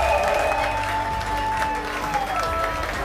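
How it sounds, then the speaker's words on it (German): An audience at an influencer darts world championship applauds in a steady, loud round of clapping that lasts throughout, with faint tonal music or crowd noise mixed underneath. "Ein großer Applaus auch nochmal"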